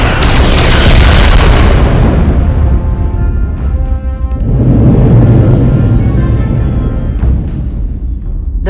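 Heavy explosions rumble through a starship battle in the video game Star Trek: Resurgence, a loud deep boom rolling over the first seconds, then a second swelling blast with ringing tones, sustained and close.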